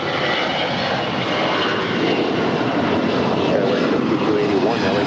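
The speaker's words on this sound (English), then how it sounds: "That was Alaska 525 departing to Seattle." An Alaska Airlines jet departing LAX runway 25 right roars steadily and loudly throughout, a broad sustained engine rumble with no letup, while a voice speaks faintly beneath it.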